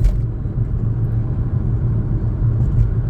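A manual car being driven on the road while a learner shifts into fourth gear, with a loud, steady low engine rumble and road noise close by throughout and no talking.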